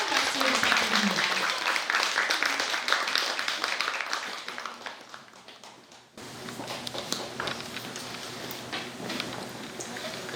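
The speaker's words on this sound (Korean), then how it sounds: "여러분 뜨거운 박수 부탁드립니다" Warm applause from a congregation welcoming a senior Buddhist monk at a book-publication dharma ceremony, a dense, fairly loud wash of clapping that swells and then fades before giving way to lighter, scattered patters of a different room sound.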